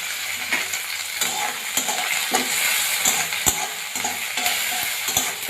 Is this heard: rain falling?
no